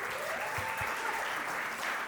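An audience applauds at a community-building talk, a steady wash of many hands clapping at moderate level, continuous for a couple of seconds with no distinct voices.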